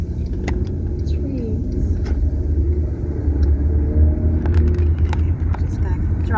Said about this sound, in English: Just gonna drive down this road